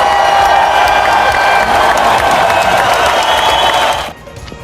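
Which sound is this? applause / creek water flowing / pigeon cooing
applause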